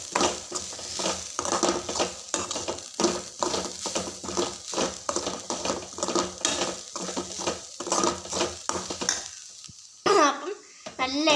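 Food is stirred in a frying pan with repeated rhythmic scraping strokes over a soft sizzle, close and fairly loud, then pauses briefly before another clatter.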